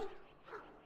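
A hound in the Dragon Age: Origins video game gives a brief, faint whimper, a thin whine that rises twice within a second, with no talking.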